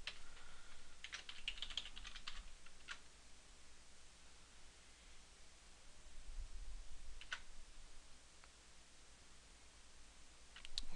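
Faint, sparse clicking of someone typing a password on a computer keyboard, with short bursts of keystrokes separated by quiet gaps in a still room.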